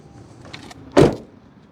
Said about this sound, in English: let's check out the sound of the closing door